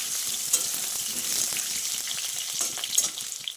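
Steady sizzling of potatoes frying in hot oil, with faint crackles and occasional stirring scrapes, no voices.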